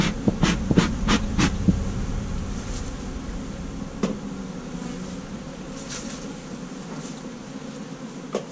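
Honeybees in an urban beehive hum in a steady, close drone, with several sharp knocks and clicks at the start and a few later, and no voices.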